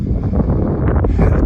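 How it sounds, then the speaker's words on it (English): Strong wind at the Guadalupe Peak trailhead buffets the microphone in a loud, continuous rushing roar with gusty low rumbles. "it's already a little windy"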